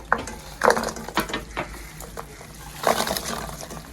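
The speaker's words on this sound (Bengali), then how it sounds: "এবার চুলের আঁচটা কমিয়ে চিনির শিরার সাথে মোরালিগুলো খুব সুন্দর করে সাবধানে মিশিয়ে নিতে হবে" Fried murali stirred into thick sugar syrup over low heat, giving irregular sticky scrapes and clinks in short bursts, close and moderately loud, with no talking.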